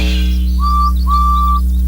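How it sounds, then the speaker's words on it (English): A guard's whistle in a Roblox railway game sounds two clear, steady blasts, a short one then a longer one, over a constant low engine hum. "The guard blew his whistle, and they pulled and pushed as hard as they could."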